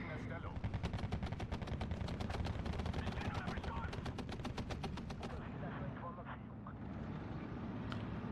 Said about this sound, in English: Just MG spamming the crap out of them.